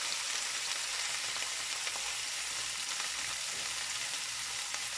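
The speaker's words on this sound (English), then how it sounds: "I'm going to start to add my beans, and these are frozen beans that I'm using." Half a bag of frozen beans frying in hot oil, a steady dense sizzle and crackle that holds at an even level throughout.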